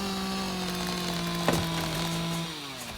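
Chainsaw cutting wood in the video game Rising World, a steady droning engine tone with a brief sharp crack midway, the pitch dropping as the motor eases off near the end.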